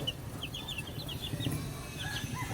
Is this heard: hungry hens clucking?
yes